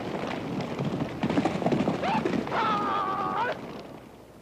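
Horses of a large herd of mixed Mongolian and Kazakh breeding on grassland, with hooves clip-clopping and a clear drawn-out neigh near the middle, heard alongside other activity and outdoor noise.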